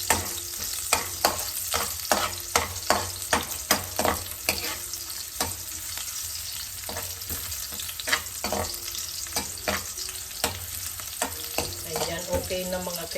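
Aromatics for pancit sizzle steadily in a pan while being stirred and sautéed until browned, with sharp, irregular clicks of a utensil scraping against the metal over the constant frying hiss.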